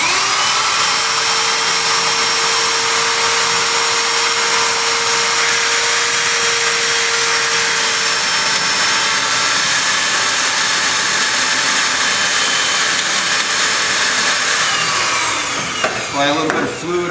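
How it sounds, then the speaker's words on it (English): A power drill bores steadily into a Land Cruiser, its whine loud and continuous at close range for most of the stretch before winding down with a few clicks and rattles at the end. "Very careful to hold the drill straight, or else you'll drill through at an angle."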